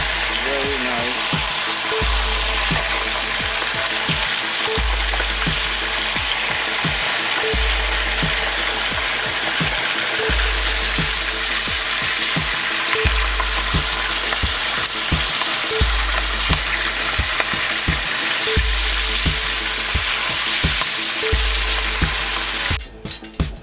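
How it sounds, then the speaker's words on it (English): Fish pieces fry for a fish stew, a steady loud sizzle in hot oil with regular low thumps and stirring, running unbroken with no talk. "I'm just gonna start frying the fish."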